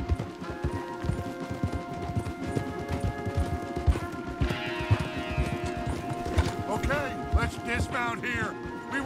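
Horses clip-clop along a path in the western video game Red Dead Redemption 2, a dense run of hoofbeats with an occasional whinny over a busy background of voices and music.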